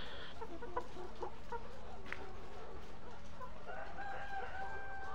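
Layer hens cluck faintly in a farm shed, with an occasional crow. Steady background noise runs throughout.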